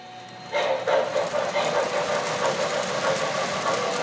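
A small train starts up and keeps running with a steady rattling, clicking rumble close by, continuing evenly to the end.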